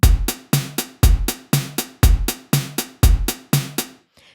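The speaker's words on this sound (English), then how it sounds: "you could put the snare on beats 2 and beats 4. And you can have the hi-hat on the 8th notes" A programmed drum loop: kick and snare alternate steadily under crisp eighth-note hi-hats, repeating for several bars with no voices.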